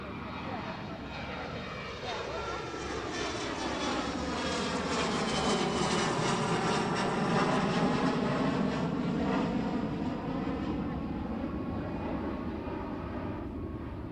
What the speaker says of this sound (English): Is that the plane we're waiting for?